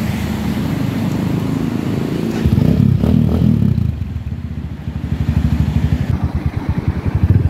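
A Suzuki Sigma 250 motorcycle engine runs close by, idling with a steady rumble, then revs briefly before settling into a rapid, pulsing beat.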